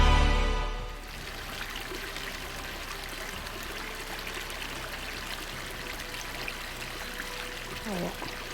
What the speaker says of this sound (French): Avant de remplir, il faut rincer le filtre et la flasque.